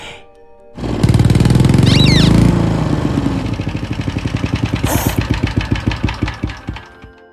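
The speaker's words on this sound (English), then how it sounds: "Tractor." A tractor engine sound effect from the Macrophonics mobile game cranks briefly, roars up loudly, then settles into a steady, rhythmic chugging idle with evenly spaced pulses, heard alone and close.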